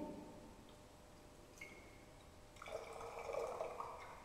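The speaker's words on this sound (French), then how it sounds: "on met dedans un volume de 100 ml de l'échantillon d'eau de robinet." A 100 ml sample of tap water is poured into a laboratory beaker already holding a magnetic stir bar, giving a faint, quiet trickle with light splashing that grows slightly toward the end.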